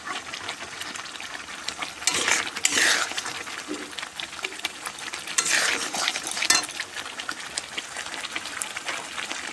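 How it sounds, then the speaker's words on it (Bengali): Spice masala for chicken curry being stirred and fried in a pan, with steady scraping and soft sizzling throughout and a few louder stirring bursts, close and moderately loud, no talking. "মশলাগুলো স্বাদ মতো ভালোভাবে কষিয়ে নিয়ে"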